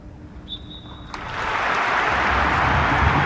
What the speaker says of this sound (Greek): Απόλυτη σιγή για 60 δευτερόλεπτα και μετά ένα πολύ ζεστό χειροκρότημα